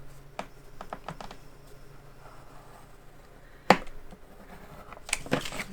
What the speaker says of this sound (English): so let me go trim this real quick.